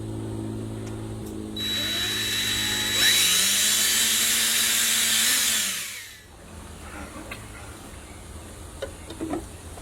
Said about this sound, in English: We're going to go ahead and drill those out. I'm using a 3/16 drill bit for our 1/4 inch anchors.